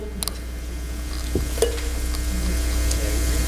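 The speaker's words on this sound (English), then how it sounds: "You hear that sizzle?" Steady hiss of oil sizzling in a hot pan, with a few faint clinks and scrapes of a utensil; no talking.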